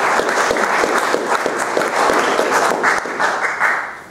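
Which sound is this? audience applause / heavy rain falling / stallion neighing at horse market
audience applause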